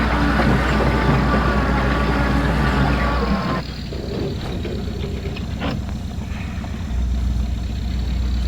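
A truck engine in the off-road driving game MudRunner idles and labors steadily, a loud continuous drone that drops slightly midway, then swells again near the end.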